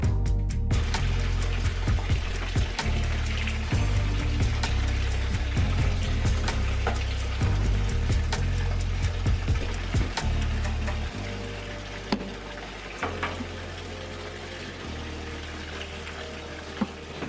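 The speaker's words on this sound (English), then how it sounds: "I love the sound of water." Water runs steadily from a tap while filling during a weekend house cleaning of laundry and dishes, a continuous close gushing flow with shifting low rumbles and occasional small knocks.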